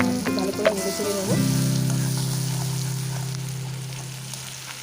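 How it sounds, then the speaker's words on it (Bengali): Spices and potatoes sizzle steadily in hot oil for a katla fish curry, a loud continuous frying hiss that begins after a brief clatter of stirring and slowly fades, with no talking. "আলুগুলোর সঙ্গে একটু কষিয়ে নেব।"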